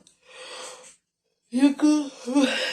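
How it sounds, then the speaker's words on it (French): A woman yawns up close: a soft breathy inhale, a brief silence, then a louder, voiced, wavering exhale that trails off. "Excusez-moi, j'ai un peu baillé."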